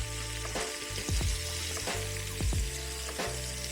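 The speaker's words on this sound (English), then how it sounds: "I've had it searing for about 3 to 4 minutes on each side" Lamb chops sear in an electric Instant Pot with a steady, close sizzle and a few sharper pops and hisses, with no voices.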